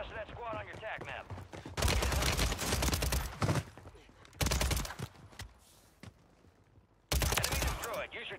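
Bursts of rapid gunfire from a WSP 9 submachine gun in the Warzone 3 video game come in three loud stretches, separated by quieter gaps where a player talks.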